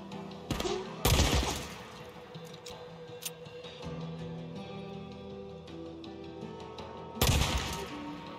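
Sniper rifle shots in the video game Days Gone, a few loud sharp cracks with brief decaying tails spaced seconds apart over a low game ambience.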